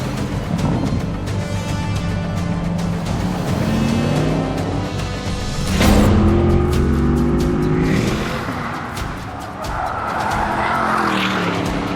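A 2021 Porsche Panamera is driven hard at the Nürburgring Nordschleife, its engine roaring loudly up and down through the gears, with tyre squeal and a surging pass close by.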